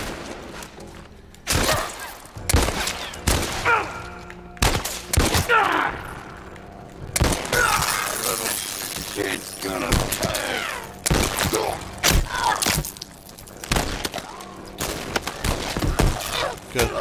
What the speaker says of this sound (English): I don't see who's shooting me